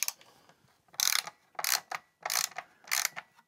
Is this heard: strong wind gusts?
no